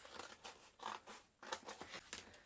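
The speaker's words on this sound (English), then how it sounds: "I'm actually going to cut this in half" Scissors snipping through a handmade paper hat to cut it in half, a run of close, quiet crisp cuts in an uneven rhythm with no talking.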